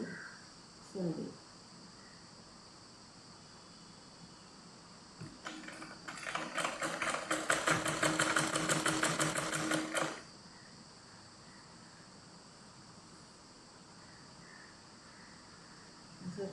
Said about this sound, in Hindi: किनारी सिल दी